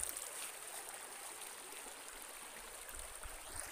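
Clear stream water flows near a waterfall in a steady, faint hiss of rushing and trickling water, continuous and even throughout with no voices.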